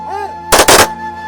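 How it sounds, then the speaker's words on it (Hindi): A ceremonial cannon salute fired with state honours at a cremation ground during a funeral: one loud, booming blast lasting under half a second, standing alone against quiet background hum. "मशाणी को नेबा परे सेठारे राष्ट्रीय मर्यादा सह तोप सलामी दिया जाइथिला।"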